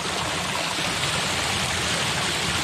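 Cold wild stream water rushes steadily as potatoes are washed in it outdoors, a continuous loud broadband wash with no talk.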